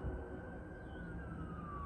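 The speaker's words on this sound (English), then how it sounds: "I hear sirens. But I've been hearing them for a minute. Sounds like they're getting closer to me." Distant emergency siren heard outdoors near a train museum, a faint wailing tone sliding slowly downward over steady background noise.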